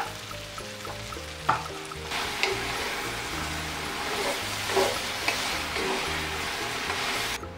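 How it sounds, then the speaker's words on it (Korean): Chicken sizzling and stir-frying in a pan with sauce, sugar and corn syrup, a steady frying hiss with occasional scrape and stir knocks up close. "설탕 한 스푼과 물엿 100ml를 넣고 볶아줍니다."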